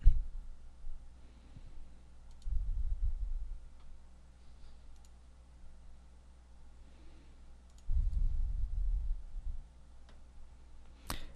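Computer mouse clicks on a digital route map, heard as a few sparse, sharp, quiet clicks spaced apart over faint low background noise.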